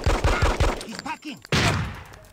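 Enemy gunfire in Hitman: Codename 47, opening with a quick run of heavy shots, then a lull with scattered thuds and whooshing effects, before another loud blast near the end.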